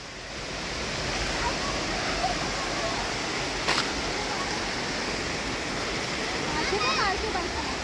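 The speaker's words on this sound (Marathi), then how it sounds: "त्या ओरंडे गावाची इथे ही मस्त वाहणारी नदी आहे" A river near Bhorande waterfall in the Malshej Ghat rushes in a constant broad roar of flowing water, loud and close, with a brief knock and faint bird-like chirps near the end.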